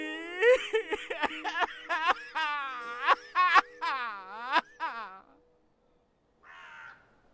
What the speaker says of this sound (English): Shoo, bird.